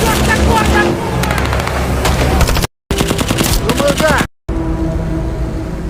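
Machine gun fire in a film scene, dense rapid bursts of loud shots running for several seconds, broken by two brief cuts to silence, with a voice talking over parts of it.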